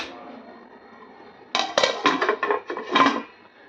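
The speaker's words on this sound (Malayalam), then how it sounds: "ഇത് നന്നായിട്ട് ഇളക്കിയിട്ട് ഇങ്ങനെ" Metal pan of fenugreek leaves being stirred and then covered with a lid, a run of sharp clanks and scrapes of utensil and lid against the pan, close and fairly loud after a quiet start.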